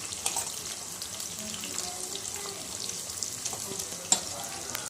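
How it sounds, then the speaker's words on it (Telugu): Onions frying in oil in a pan for chicken curry, a steady soft sizzle with faint scrapes and one sharp click near the end, heard alone without talk. "కొన్ని ఆనియన్స్ తాలింపులో వేసేసేయండి ఇట్లా నూనెలో"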